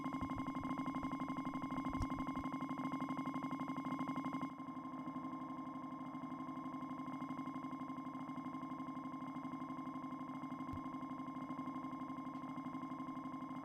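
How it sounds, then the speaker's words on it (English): A Korg Volca Sample plays a sustained, droning granular texture with reverb, steady tonal layers humming throughout at low level with a faint click or two, no voices. "We are already starting to get that granular effect."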